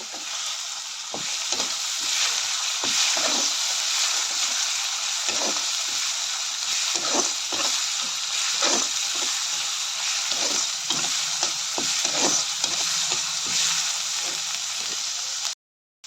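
Steady sizzling of spice paste and two bay leaves frying in a pan, with repeated scraping clicks of a spoon stirring throughout, close and fairly loud.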